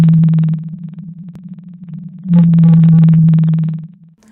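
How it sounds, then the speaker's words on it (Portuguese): Song of a Pacific blue whale: a steady low tonal moan, with two buzzing pulsed bursts, one at the start and one in the middle, heard alone. "O som da baleia azul do Pacífico são assim."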